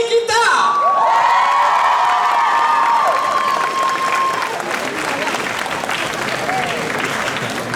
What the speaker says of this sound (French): Donc on applaudit très très très très fort l'incroyable Anne Sheila et